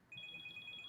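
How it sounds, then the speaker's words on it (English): A mobile phone ringtone plays a repeating electronic two-tone beep pattern, faint and steady over quiet background noise, with no talk over it. "there goes my phone."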